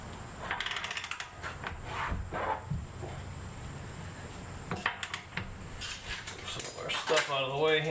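Ratchet wrench clicking in bursts while tightening the rear half shaft (CV axle) nut on a 2015 Jeep Cherokee KL, close and fairly quiet, mixed with clanks of tools and someone talking through it.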